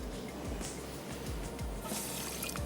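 Half a cup of water pours into a pan holding half a cup of sugar, making a steady splashing trickle against constant background noise.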